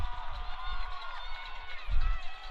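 A large home crowd cheers at Roger Williams men's soccer team's Bayside Field during a championship penalty kick shootout against Suffolk, a sustained roar with a commentator talking over it and a louder swell near the end.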